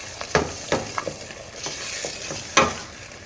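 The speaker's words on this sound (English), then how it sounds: "Stir it." A spoon stirs okra soup in a pot, seasoned with black pepper, a stock cube and salt, giving a few separate scraping knocks over a soft background hiss, no voices.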